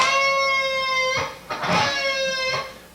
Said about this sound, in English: that was a nice pinch harmonic